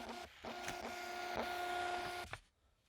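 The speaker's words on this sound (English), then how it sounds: "once we click on the printer, it will start printing" A thermal printer running a barcode label, giving a steady whirring, buzzing feed for about two seconds with a few ticks along the way, then a click as it stops, leaving near silence.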